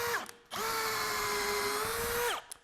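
A power drill runs briefly, then revs up again and holds a steady high whine for nearly two seconds before winding down with a falling pitch. It is loud and close, with no voices.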